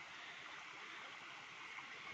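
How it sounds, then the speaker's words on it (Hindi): Cold water flows steadily in a stream on the approach to a training camp water point, a continuous close rushing hiss with no pauses. "और ये ठंडा ठंडा पानी है"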